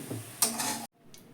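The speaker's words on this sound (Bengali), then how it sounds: "এবার আমি একটা পাত্রে এগুলো ঢেলে নেব" Cooked Maggi noodles are tipped into a bowl: a short burst of soft clattering and scraping from the pan, then a sudden cut to near silence with a faint tap.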